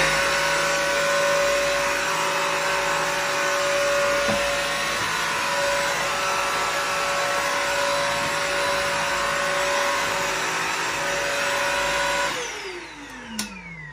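Bissell Crosswave Pet Pro multi-surface floor cleaner runs with its brush roll turning over the floor, a loud steady motor whine with suction roar that winds down near the end.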